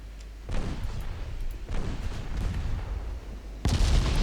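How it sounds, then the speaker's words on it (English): Warship main guns firing in the naval video game Ultimate Admiral Dreadnought: three heavy booming salvos a second or so apart, each with a rumbling low tail, the last loudest and nearest. "Main guns."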